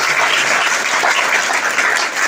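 A crowd claps steadily and loudly throughout at an outdoor Hindi poetry gathering in Tarana, Ujjain, a dense, even wash of applause with no pauses.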